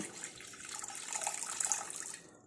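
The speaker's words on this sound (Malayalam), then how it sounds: "ഒരു അര ഗ്ലാസ് വെള്ളം ഒഴിച്ചാൽ മതി കേട്ടോ" Soft, faint splashing and trickling as half a glass of water is poured into a pot on the stove, brief and close, with no voices.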